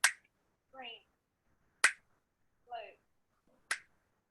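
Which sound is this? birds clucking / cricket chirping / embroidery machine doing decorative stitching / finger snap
finger snap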